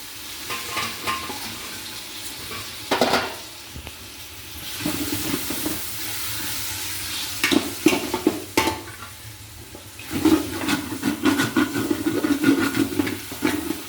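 Tomatoes tossed into a hot frying pan sizzle loudly and hiss, with repeated bursts of stirring and scraping against the pan that come and go over a steady frying background, no talking.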